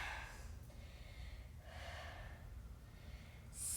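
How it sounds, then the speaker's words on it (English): Deep breaths during a core workout: slow, airy inhales and exhales follow one another close to the mic, soft and steady, with no talking. "So breathe deeper"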